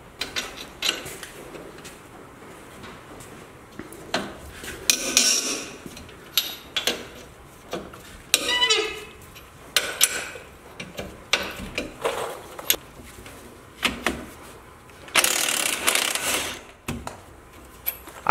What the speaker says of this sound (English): what we're doing is breaking the U-bolts loose on the leaf springs